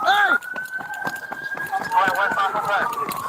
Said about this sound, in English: they hear a police siren from a patrol car responding to the request for backup